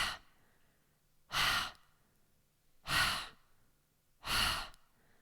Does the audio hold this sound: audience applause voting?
no